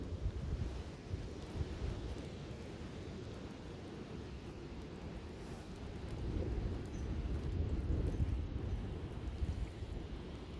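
Strong gusting wind batters a mountaintop, a low roaring rumble that buffets the microphone and swells louder partway through, with no voices.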